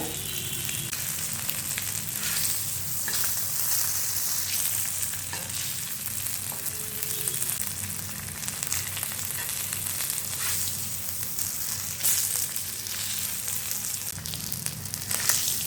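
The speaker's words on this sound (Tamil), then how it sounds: "நல்லா கிறிஸ்பியாக வறுத்து எடுத்துக்கலாங்க." Fish fries in hot oil until crispy, a steady, close sizzling hiss lasting throughout, with occasional soft crackles and light stirring or shifting sounds.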